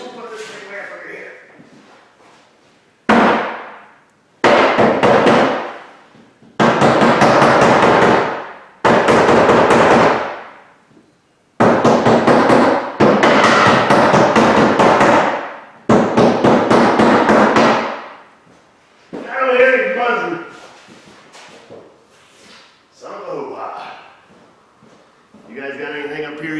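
Someone strikes the fuel tank of a Chevrolet Impala with a crank-no-start fuel pump fault, a series of loud close metallic whacks in bursts, with people talking between the blows.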